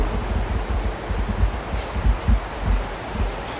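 Strong wind buffets the microphone on an open golf course, producing steady low rumbling gusts that swell and fade throughout, loud and alone with no talking.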